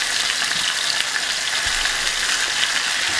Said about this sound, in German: damit ich Platz habe zum Anbraten von den restlichen.